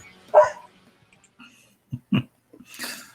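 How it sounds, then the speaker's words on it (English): A dog gives a few sharp barks, one early and a quick pair later, with quiet gaps between and a faint breathy sound at the end. "She walked by and barked."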